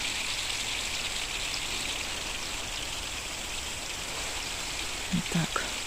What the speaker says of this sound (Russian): Грибной дождик.